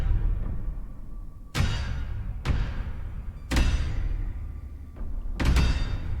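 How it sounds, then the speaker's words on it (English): Thunderous knocking echoes through a cavern in Scarlet Hollow: four heavy booming knocks at irregular intervals, each a deep loud thud with a long reverberant decay, over a low ambient rumble. "the thunderous knocking"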